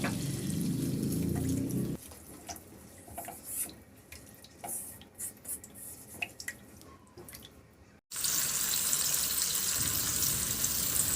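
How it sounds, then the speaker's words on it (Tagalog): Water goes into a cooking pan of kangkong with soy sauce and oyster sauce. Scattered drips and stirring clinks come first, then a loud, steady rush of pouring or bubbling at close range. No one speaks. "At lagyan ko na ng tubig."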